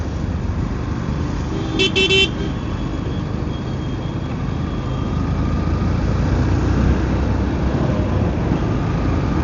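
A single car horn beeps briefly in Wagholi street traffic, a short honk layered over a steady rumble of passing vehicles and road noise.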